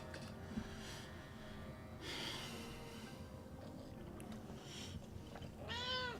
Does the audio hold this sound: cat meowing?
yes